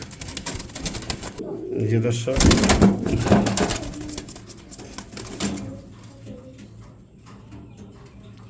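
Lahori baby pigeons flutter and coo restlessly at a pigeon seller's stall, a burst of flapping and soft calls rising in the middle, with someone talking throughout.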